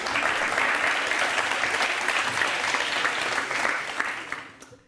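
Studio audience clapping on a courtroom-style celebrity interview show, a dense, loud, sustained burst of many hands that fades out in the final moment.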